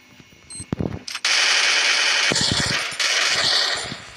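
Automatic gunfire in the video game Free Fire during a ranked clash squad match: short taps, then sustained rapid bursts, loud and close, broken by brief pauses.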